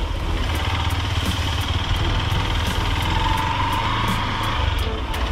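A motorbike engine runs steadily on an off-road forest trail near Bijan Bari, Darjeeling, a continuous close rumble with rough low vibration and no talk.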